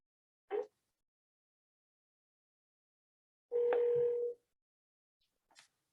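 Manual dialing on a desk telephone: a short tone, then a longer held dial tone, then another brief faint beep, separated by silence.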